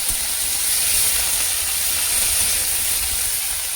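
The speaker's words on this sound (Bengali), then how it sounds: "এই নরম ডাঁটিগুলো ভেজে নেব একটু" Tender drumstick vegetable stalks frying in hot oil make a steady, loud, unbroken hiss that holds at a constant level throughout, with no voices.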